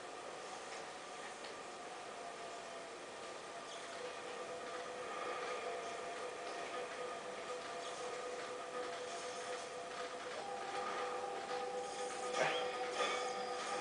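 Riding a train in the video game Red Steel 2: a continuous rumbling rail clatter with rhythmic clicking, moderately quiet and steady throughout, briefly swelling with a metallic rattle toward the end.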